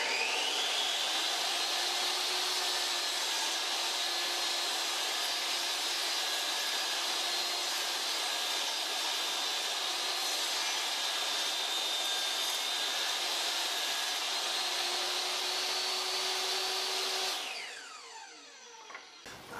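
A table saw rips a furring strip clamped as a sacrificial fence, a steady loud whine holding for about seventeen seconds before spinning down at the end, with no talking.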